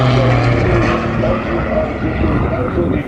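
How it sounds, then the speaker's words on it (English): A propeller plane flies over the Carco Raceway track in Perth, its engine a loud, close, steady droning roar that eases slightly as it passes. "that's the dad flying the plane"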